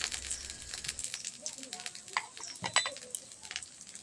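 A spoon stirs a fish marinade of mustard oil in a bowl for hilsa bhapa, giving faint, busy scraping and wet clicking close by, with a voice murmuring at times.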